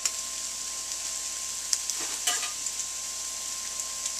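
Venison meat frying in a pan, heard as a steady close sizzle and hiss with a few faint clicks and stirring scrapes, and no talk.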